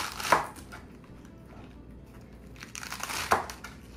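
A knife cuts lettuce stalks for a Caesar salad, landing two crisp, crunchy chops on a board about three seconds apart, with quiet rustling between them.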